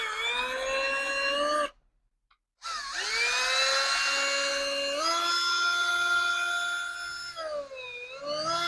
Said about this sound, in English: I'm drilling the fuel pump right now to get the fitting in.